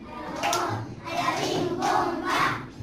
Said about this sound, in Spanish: Les damos un aplauso bien fuerte a nuestras mamás.